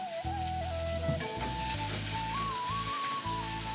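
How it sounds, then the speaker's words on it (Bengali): Potatoes and chopped onion fry in a pan with a soft continuous sizzle, partly covered by a louder melodic tune playing over it. "আলুটা নেড়ে নিয়েছি"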